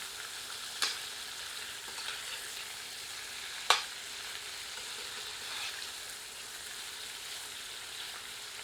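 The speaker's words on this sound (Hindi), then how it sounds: "इन्हें इस तेल में भूनते हैं। आंच तीव्र रखते हैं और कड़छी चलाते रहते हैं" Mutton pieces frying in hot oil over high heat, stirred with a ladle: a steady, faint sizzle with a couple of sharp metallic scrapes from the ladle.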